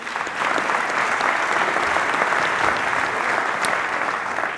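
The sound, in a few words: audience applause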